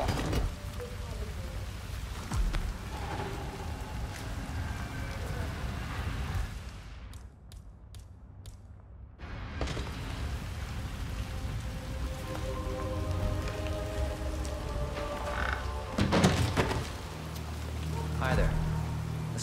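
Rain falling in the video game Hitman 3, a steady patter of drops on surfaces that drops away briefly and returns, with voices talking over it and a few heavier thuds.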